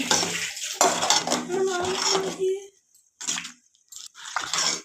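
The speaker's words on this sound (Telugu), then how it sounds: "మూత పెట్టేసుకుందాం" A metal lid clatters onto a cooking pot in a home kitchen while ajwain porridge cooks on a gas stove: several close, bright clinks and knocks in short bursts, with pauses between them.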